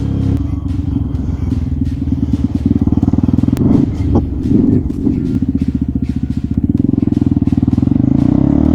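A loud motorcycle engine runs steadily while riding, a close rumbling throb with a few clattering bumps, and no voices come through.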